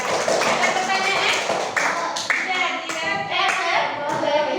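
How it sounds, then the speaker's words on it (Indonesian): A classroom group claps for classmates during a primary school lesson, several short bursts of hand claps with a few quiet voices in the room. "tepuk tangan untuk kelompok 2"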